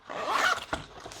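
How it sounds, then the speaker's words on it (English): A zipper is pulled shut on a soft carry case for a mini 4K projector, one quick rasping zip up close followed by a brief soft thump. "And it zips up to a really nice form factor carry case, like this."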